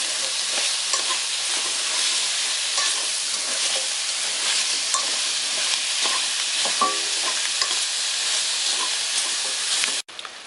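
Beef and radish fry in oil with garlic in a pot, a steady close sizzle and hiss with scraping stir strokes throughout, cut off abruptly near the end.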